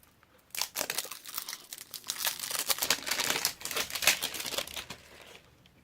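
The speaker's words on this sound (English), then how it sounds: "Get my scissors in there." Scissors cut into crinkly packaging, producing dense, close crackling and tearing rustles in rapid bursts that swell and fade over several seconds.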